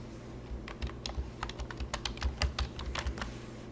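Rapid, irregular clicks of fingers typing on a computer keyboard sound close and steady over a low background hum, with no voices.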